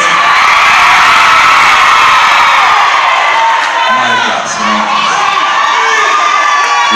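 Theatre audience at a live concert shouting and cheering loudly throughout, a dense sustained roar of many voices with whoops, dipping slightly near the middle before swelling again.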